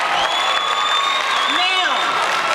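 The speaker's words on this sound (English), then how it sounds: "Let's give these passengers a round of applause." Audience applause with a few cheers and whoops for bus passengers at an energy bus event, dense clapping throughout over crowd chatter, with a voice speaking briefly.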